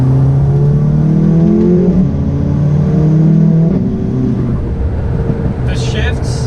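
A VW/Audi car with a DSG dual-clutch gearbox accelerating hard, loud close engine drone climbing in pitch, dropping sharply at each quick gear change, then pulling again.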